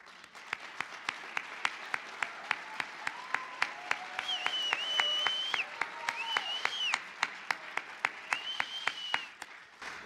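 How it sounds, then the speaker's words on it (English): Scattered audience clapping at a Lincoln birthday event in Springfield, Illinois, fairly faint and distant, with sharp individual claps standing out over a room murmur and tonal sounds drifting through. "Let's have a round of applause for Catherine Harris."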